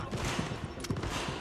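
Gunfire in The Division, a rapid series of sharp shots in quick bursts with irregular spacing, fairly faint overall, and a brief louder crack in the middle.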